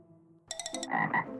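Cartoonish frog croaks from a mermaid-themed video game, a short burst of bright ribbed calls followed by lower gulping croaks, loud and alone with no talk.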